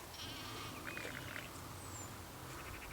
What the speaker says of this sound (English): We've got some sheep in the background.